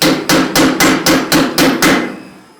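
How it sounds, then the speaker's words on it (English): Seven evenly spaced, ringing metallic blows sound as a hammer strikes a hot cut chisel, cutting the center out of a forged skull at an anvil. Each strike is loud and close, and the last one fades into silence. "going to cut the center out, use a little bit finer shape cutter"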